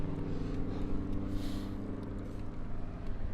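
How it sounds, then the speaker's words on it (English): Road-legal rally cars drive on roads nearby, a faint, low engine drone with a soft rise and fall as a vehicle passes in the distance, heard without talk. "there's quite a lot of sort of road legal rally cars"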